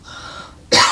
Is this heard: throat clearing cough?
yes